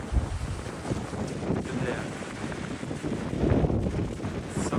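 Strong gusting wind blows across open water near a construction site, buffeting the microphone with a loud, rough roar that surges and fades, a brief voice heard under it.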